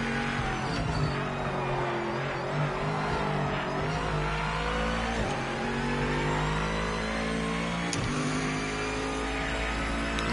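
A GT3 race car engine revs continuously in a racing video game, a loud, sustained roar with rising and falling pitch as it climbs through the gears, with no talk over it.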